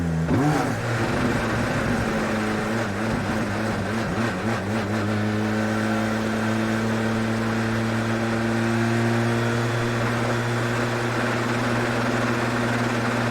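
A loud Audi RS5 DTM race car engine in Gran Turismo 7 revs hard at first, then settles into a steady, droning idle with strong low harmonics, continuous and close.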